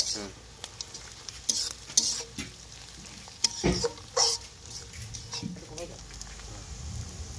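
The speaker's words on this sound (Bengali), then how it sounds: "এর মধ্যে এবার বাদামগুলো দিয়ে দেবো, বাদামগুলোকেও ভেজে নেবো।" Peanuts fry with onions in a pan and get stirred, a soft sizzle under scraping spatula strokes and a few louder clatters, close by, with some low voice sounds mixed in.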